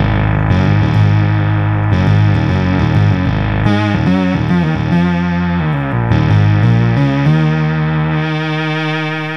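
A loud, distorted Micromoog analog synthesizer tone plays shifting notes with a wobbling, modulated character and rich harmonics, continuous and up front.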